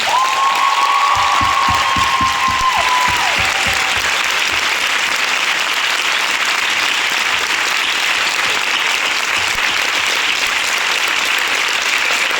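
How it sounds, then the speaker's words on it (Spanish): Loud audience applause fills the room at a drag pageant show, continuous dense clapping with a faint whistle-like tone and some crowd noise near the start, steady and close throughout. "un forte aplauso para Cristina a Veneno."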